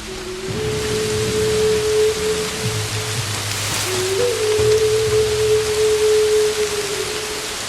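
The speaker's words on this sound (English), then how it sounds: "Really wish it wasn't raining" Steady rain hisses as a broad, constant wash of noise in a video game, loud and unbroken throughout, with low sustained tones humming underneath.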